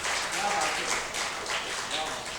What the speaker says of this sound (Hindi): एक बार अपने धर्म के लिए तालियां बजाइए